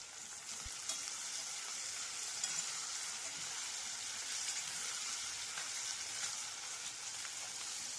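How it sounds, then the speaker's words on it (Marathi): Steady, quiet sizzling of lemon and green chilli sautéing in a hot pan, a continuous bright crackle with one faint tap near the start. "लिंबू आणि मिरची एकत्र मी घालून घेतलेलं आहे आणि छान असं परतून घ्यायचं"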